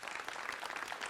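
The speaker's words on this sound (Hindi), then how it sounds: "जोरदार तालियों के साथ" A studio audience on a Hindi TV debate applauds to welcome Kanhaiya Mittal, with brief, dense and faint applause.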